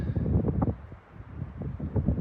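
Gusty wind buffets the microphone in low, rumbling surges that ease briefly and then pick up again, on a trail in the San Gorgonio Wilderness.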